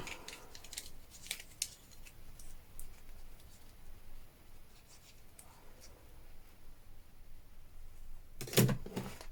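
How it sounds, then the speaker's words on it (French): Small scissors trim little threads on fabric for a junk journal cover, several quiet close snips scattered through soft handling noise, ending with a louder crisp cut. "on coupe tous les petits fils ou on les laisse derrière"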